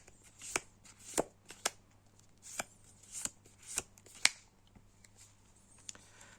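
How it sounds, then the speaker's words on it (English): Playing cards flicked in the hand, about a dozen crisp sharp snaps at an uneven rhythm, close and quiet against near silence. "there's just a very satisfying feel about how your cards flick"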